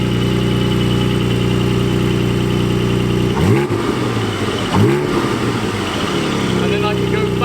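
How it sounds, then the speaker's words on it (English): A Porsche GT4 with a Cargraphic exhaust, valves fully open, idles steadily and then takes two sharp throttle blips that rise and fall, loud and close. "So I give it a couple revs with them fully open."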